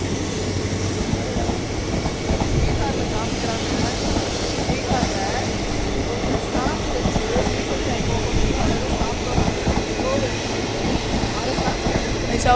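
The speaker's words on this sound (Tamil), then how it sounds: "அங்கே ஒரு ட்ரெயின் வருதுன்னு நினைக்கிறேன்" A train rumbles past nearby with steady rolling clatter and rhythmic wheel clacks, continuous and fairly loud throughout.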